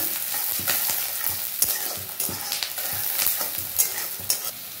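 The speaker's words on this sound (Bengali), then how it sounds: "পেঁয়াজটা দিয়ে দিয়েছি, ভাজা ভাজা হোক, একটু লাল লাল ভাব আসুক" Onions sizzle loudly in a hot pan as they brown, with frequent scraping stirs over the continuous frying hiss, no voices.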